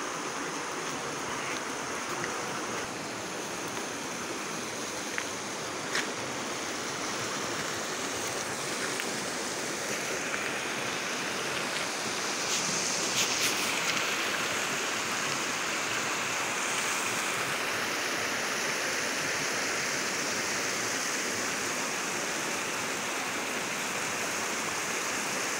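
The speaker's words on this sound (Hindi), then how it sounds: "यहीं पर एक छोटी सी नदी है जिसकी आवाज़ के कारण वॉइस क्वालिटी में आपको पीछे से प्रॉब्लम" A small river flows nearby in farm fields, a loud, continuous broadband rush of water that holds steady throughout with no talking over it.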